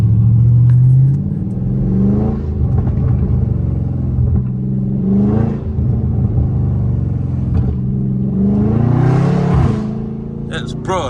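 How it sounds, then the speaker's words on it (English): A loud Dodge Scat Pack engine revs hard and upshifts through several rising pulls, each ending in a brief drop, with deep exhaust rumble filling the whole stretch and people talking over it. "Bro, that upshift, like, do y'all hear that?"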